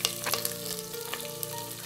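Chopped onions hit hot oil with cinnamon, cardamom and black pepper for a jackfruit biryani, giving a steady close sizzle and crackle with a few sharper pops, and no one talks.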